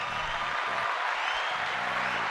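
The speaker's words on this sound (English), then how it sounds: "So, let me give you a round of applause." Studio audience applause, a dense, continuous clapping wash with a faint murmur of crowd noise underneath, fairly loud and steady across the moment.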